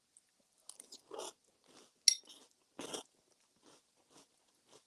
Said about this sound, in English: Do you hear the crunching?